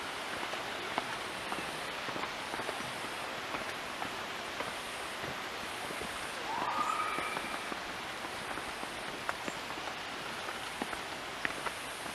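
Steady rushing water of a mountain stream beside a forest trail in a nature reserve buffer zone on Xinglong Mountain, Gansu, a constant broadband wash filling the whole stretch with faint scattered ticks and a brief whistle-like tone midway.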